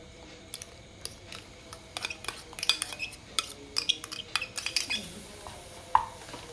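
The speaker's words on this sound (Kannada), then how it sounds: "ಇವಾಗ ಇದಕ್ಕೆ ಮಾವಿನ ರಸವನ್ನು ಹಾಕಿ ಮಿಕ್ಸ್ ಮಾಡ್ತೀನಿ" Light scraping and clinking of a spoon stirring mango pulp into a coconut mixture in a pan, irregular soft taps and scrapes that grow busier toward the end.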